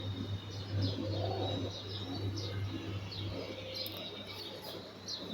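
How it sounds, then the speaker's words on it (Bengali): Birds calling outdoors at home on a rainy day, faint repeated chirps over a steady low hum, with no talking. "কি সুন্দর পাখির ডাক"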